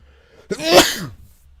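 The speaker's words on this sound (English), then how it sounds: "Oh, sorry about that. Sneezing." A single close, sharp sneeze bursts out after a moment of quiet, then fades quickly.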